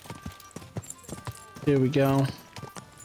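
Horse hooves clip-clopping at a slow walk in the video game Kingdom Come Deliverance 2, steady regular hoofbeats with a loud neigh midway, while someone talks over them.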